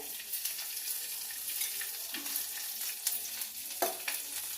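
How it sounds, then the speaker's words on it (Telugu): Green chillies frying in a spoonful of hot oil for cucumber chutney, a close, steady sizzle with intermittent pops and light scraping, alone without speech. "పచ్చిమిరపకాయలు వేసుకుంటున్నానండి. ఒక స్పూన్ నూనె వేసుకోవాలి."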